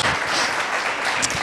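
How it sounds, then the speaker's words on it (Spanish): A church congregation claps to welcome first-time visitors, a dense burst of applause from many hands, loud and steady for a moment. "Les damos un aplauso de bienvenida"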